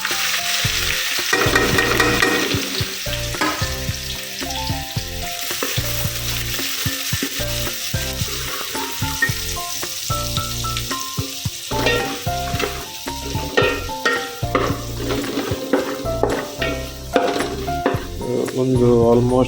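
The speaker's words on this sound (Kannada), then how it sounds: "ಸೊ ಆಲ್ಮೋಸ್ಟ್ ನೀರುಳ್ಳಿ ಫ್ರೈ ಆಗೋದು ಬರ್ತದೆ" Chopped onions frying toward golden brown in a pan alongside mint, fenugreek and cumin for a green chicken ghee roast, a continuous close sizzle broken by frequent stirring scrapes and clinks of a spoon against the pan.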